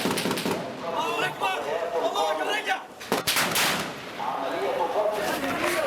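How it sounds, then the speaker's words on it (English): Sustained gunfire from snipers and government forces across Rab'a Square, crackling shots and bursts over a loud, chaotic background, with voices mixed in. "snipers and government forces opening fire throughout Rab'a Square"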